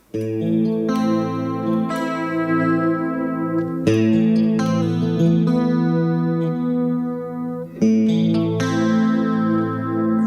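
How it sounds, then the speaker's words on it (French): Electric guitar with a chorus effect, shimmering, slightly wavering chords struck every few seconds and left to ring, loud and alone. "Ça, c'est un son de chorus."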